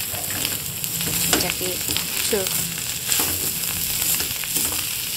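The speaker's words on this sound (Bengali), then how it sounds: "এবার ভাজা হবে, এমনই ভাজা হবে" Dried red chillies fry in a pan for a bitter gourd (kankrol) mash, giving a steady close sizzle with occasional stirring scrapes and a brief spoken word.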